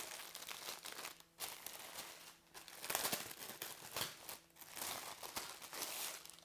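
Plastic packaging on a Disney cross stitch kit crinkles and rustles as it is opened, soft, continuous crumpling close by with brief pauses, quiet overall and without talking.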